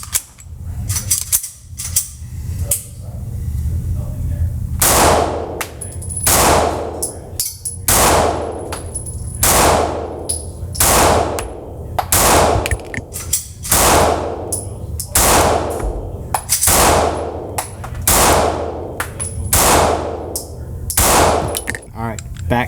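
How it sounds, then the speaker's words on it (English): A Sig Sauer P365XL pistol fires a full magazine: roughly fifteen loud, sharp, close shots at a brisk, slightly uneven pace, each ringing briefly before the next. "First mag through the Sig Sauer P365XL."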